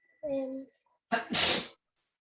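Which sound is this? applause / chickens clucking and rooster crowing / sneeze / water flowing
sneeze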